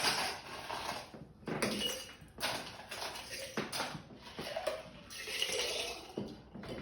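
Ice cubes dropped and clinking into a glass while a whiskey cocktail topped with elderflower tonic is mixed, a few scattered clattering bursts with faint kitchen rattles between them.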